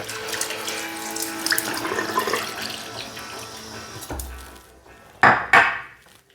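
Water runs steadily into a container for several seconds, then stops, followed by two sharp clattering knocks nearby.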